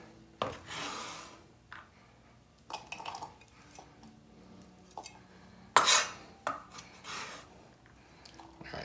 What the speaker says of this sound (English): I'm gonna put a little bit more onions. So you want to just kind of chop it up finely.